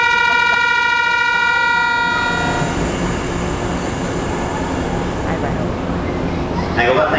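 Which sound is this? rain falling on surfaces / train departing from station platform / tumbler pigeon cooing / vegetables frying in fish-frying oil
train departing from station platform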